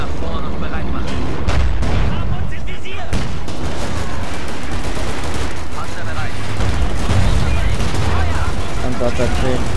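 Heavy battlefield gunfire and tank cannon blasts in the video game Company of Heroes 2, dense overlapping shots and booms, loud and continuous, with voices calling out over the fighting.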